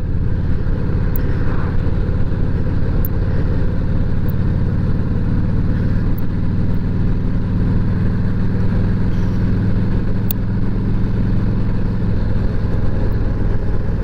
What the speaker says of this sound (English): I told him the idling's a little rough